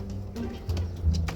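A pigeon in a backyard coop with chickens gives short low coos, two brief rolling phrases close by and fairly quiet.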